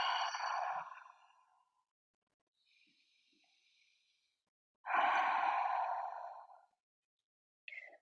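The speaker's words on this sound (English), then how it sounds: "you could bend your elbows and gently fold forward, exhaling." Slow, drawn-out exhales during a yoga forward fold in a hatha flow, two long breaths with a faint softer one between, close and alone with no talking.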